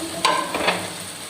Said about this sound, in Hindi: अच्छी तरह इसकी अब भुनाई कर लेंगे